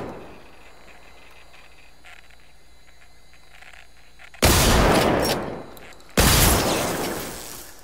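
Gunfire in the video game Generation Zero: a quiet hum breaks into two loud, harsh bursts of shooting, the second following shortly after the first.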